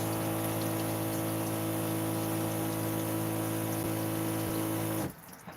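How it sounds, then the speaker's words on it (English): Steady cold tap water running into a sink while rinsing pasta, with a constant hum underneath, going on without pause until it cuts off abruptly near the end. "So I'm rinsing it with cold water because it is a cold pasta dish."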